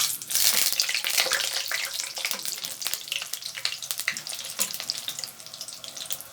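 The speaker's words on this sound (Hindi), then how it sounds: "आप देख सकते हैं कि गोलगप्पे हमारे अच्छे से फ्राई हो रहे हैं" Golgappa puris deep-fry in hot oil in a kadai, giving a steady, bubbly sizzle with crackling bursts that stays fairly close and gradually eases toward the end. Nobody speaks.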